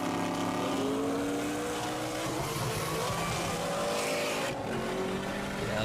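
A car with a manual Coyote engine races past in a roll race against a Corvette, its engine note climbing steadily and loudly over several seconds amid broad road and wind noise.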